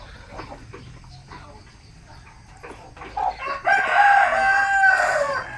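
A native chicken rooster crows loudly and close in the second half, a long ringing call after a few softer clucks and low farmyard noise.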